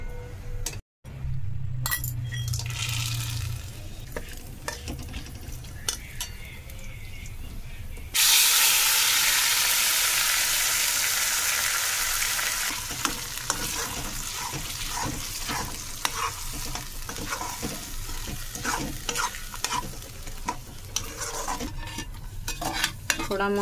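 Whole spices crackle and sizzle in hot oil while a utensil scrapes and clinks against the pan, with a loud burst of hissing midway before steady stirring continues.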